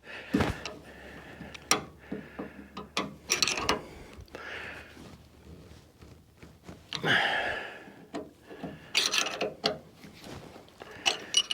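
Hardtop fasteners tightened with a ratchet, with intermittent clicking and mechanical rattles, some louder clunks and scrapes, close by with pauses between bursts.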